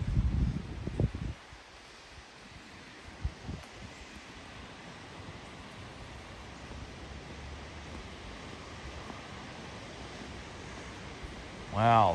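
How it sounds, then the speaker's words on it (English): Waterfall in Cloudland Canyon State Park, Georgia: a steady broadband rush of falling water heard from a distance, with a few brief louder knocks near the start and a short burst of sound at the end. "look at this beautiful waterfall."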